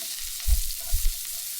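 Ginger and curry leaves frying in coconut oil for a tomato fish curry, giving a low, soft sizzle with a couple of stirring bumps, close and fairly quiet, with no talking.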